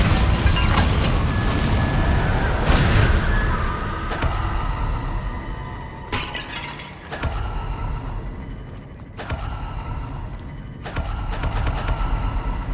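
Blasting spells explode one after another in a fantasy wizard game. Heavy booms and sharp bursts hit at intervals, each followed by rumbling debris and fading crackle.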